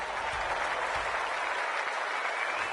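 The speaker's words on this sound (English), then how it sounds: "The crowd already making plenty of noise as the captains come together." Stadium crowd in the AFL 26 video game roars steadily before an Australian football match, a dense continuous wash of cheering and applause with low thumps underneath.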